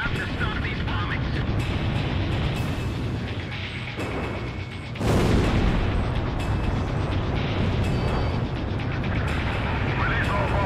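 Heavy rumbling bombing explosions in the Ace Combat Zero: The Belkan War air-combat game over a burning Belkan city, a dense continuous roar with a louder blast surge midway, all under constant engine and combat noise.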